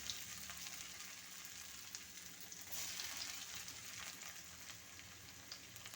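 Chopped ginger frying in hot coconut oil with popped mustard seeds for an egg curry, giving a faint, even hiss and crackle of sizzling that continues without a break and without voices.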